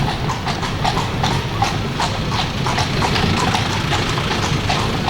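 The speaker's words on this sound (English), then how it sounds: "at least you can see the horse bouncing along" A horse pulling a cart clip-clops in a steady, even rhythm of hoofbeats, loud and close over constant rumbling wheel and road noise, with no talk.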